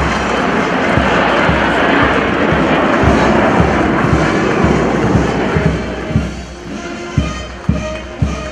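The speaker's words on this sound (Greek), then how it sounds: "όταν στον ουρανό εμφανίζονται τα Σινούκ, από τα οποία για πρώτη φορά πέφτουν αλεξιπτωτιστές" Chinook helicopters fly overhead at a public event where paratroopers jump: a loud, continuous rotor roar with a rhythmic low thumping beating through it, easing slightly near the end.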